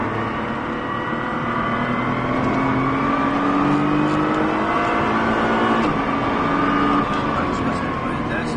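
A car accelerates on the Haute Saintonge racing circuit, a loud continuous engine drone whose pitch rises steadily from inside the cabin, with no break in the sound.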